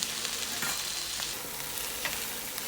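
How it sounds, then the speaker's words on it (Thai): Boiled peanuts and dried shrimp stir-fry in a hot pan, a steady close sizzle broken by a few sharper scraping stirs, with no talking. "นำถั่วลิสงที่เราต้มไว้นะคะ ใส่ลงไปผัดด้วยค่ะ ตามด้วยกุ้งแห้งค่ะ"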